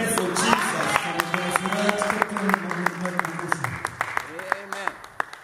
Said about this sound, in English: If there is joy, you are going to clap your hands for Jesus